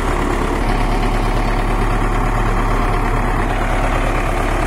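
Belarus MTZ-82.1 backhoe loader from 2007 idling with a steady, loud diesel rumble throughout, close and continuous with no speech over it.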